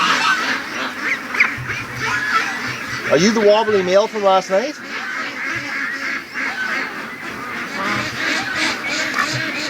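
Ducks quack and honk in a loud, busy flock around a duck-raising pen where a bird is sick with botulism, their calls overlapping as a person talks throughout.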